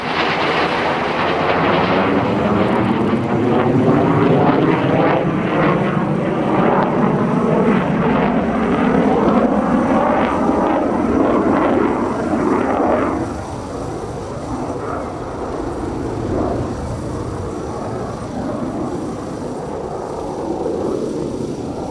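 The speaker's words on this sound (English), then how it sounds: "there they are, the T-2 Buckeye and the F-18 Hornet" A T-2 Buckeye and an F/A-18C Hornet fly past together at an air show in Janesville, Wisconsin. A loud, continuous jet roar rises and sweeps by with a Doppler shift, then fades into a lingering rumble.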